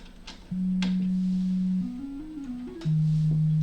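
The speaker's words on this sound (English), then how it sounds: "So this is what a sine wave actually sounds like." A pure, smooth synthesizer sine wave tone holds steady, then glides up through a few stepped pitches before settling lower, alone and clean.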